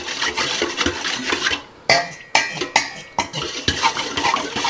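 Homemade pizza dough mixed in a bowl, a series of close wet slaps, scrapes and knocks in an irregular rhythm with brief pauses between strokes, moderately loud with no voices.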